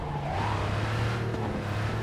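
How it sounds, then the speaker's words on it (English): A car engine hums and revs in Cyberpunk 2077, a steady, close drone with a rising tone and no speech. "Love this car."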